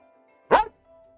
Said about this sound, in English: I know you don't need to bark at Sloth.